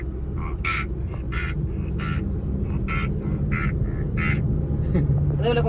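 A human voice imitates a duck, giving about nine evenly spaced nasal quacks in a steady rhythm over a constant low background hum.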